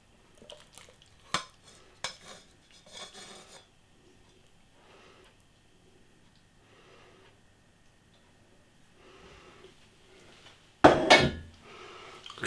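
Chow mein noodles go into a bowl with scattered clinks and scrapes of utensils against dishware, mostly soft and sparse, then a louder clatter and rustle near the end.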